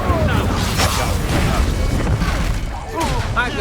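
A fire spell cast in combat in Hogwarts Legacy, a loud rumbling burst with crackling whooshes, sustained across the moment amid other battle effects and voice.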